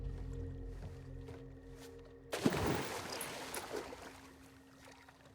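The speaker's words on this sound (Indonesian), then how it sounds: "tiba-tiba hujan deras banget lagi" Heavy rain bursts in suddenly in the video game The Quarry, a loud, dense wash of downpour that follows a quiet ambient stretch and then continues steadily, easing slightly toward the end.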